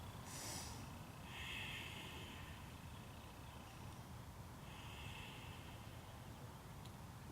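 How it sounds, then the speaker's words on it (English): Slow, deep breaths during a yoga session for stress and anxiety, a few drawn-out airy inhales and exhales, faint and close against a low background hiss. "let's continue with those full, deep, slow breaths"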